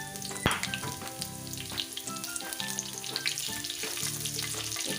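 Cumin seeds and whole chilies sizzle and crackle in hot oil for a lentil tempering, a steady frying hiss with occasional pops and a sharp clatter near the start.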